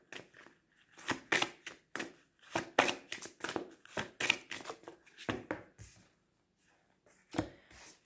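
Tarot or oracle cards shuffled by hand during a card reading: a close, quiet run of crisp riffling bursts in an uneven rhythm with short pauses between them.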